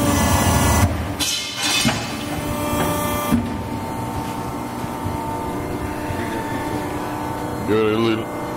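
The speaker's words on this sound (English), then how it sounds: "You're going to be cutting a piece of quarter inch plate, about 3 feet long." An LVD 10-foot hydraulic shear, model HSTC 25/10, cuts a three-foot length of quarter-inch steel plate with a loud, close mechanical roar and hydraulic whine that settles into a steady hum, and a voice comes in near the end.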